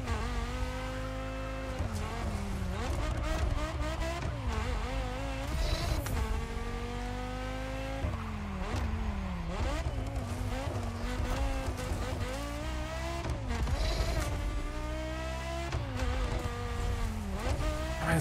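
KTM X-Bow R sports car in the racing game The Crew Motorfest, engine droning loud and steady with repeated rising revs and sharp drops at gear shifts throughout, no talk.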